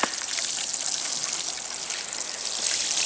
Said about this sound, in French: Alors, un bon arrosage.